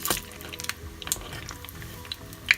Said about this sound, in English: Just fry them until they become golden brown